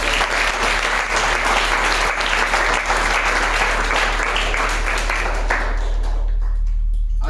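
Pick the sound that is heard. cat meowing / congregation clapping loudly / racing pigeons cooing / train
congregation clapping loudly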